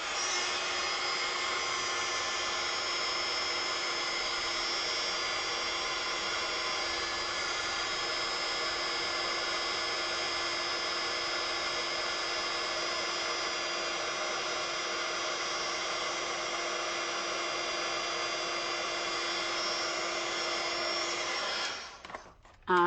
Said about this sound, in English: I'm just going to heat emboss this with my heat gun and make this all sparkly.